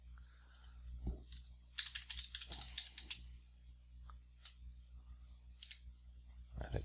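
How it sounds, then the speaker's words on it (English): Keys clicking on a computer keyboard as a password is typed, scattered faint taps with short bursts and pauses in a quiet room. "You have to type in the password correctly."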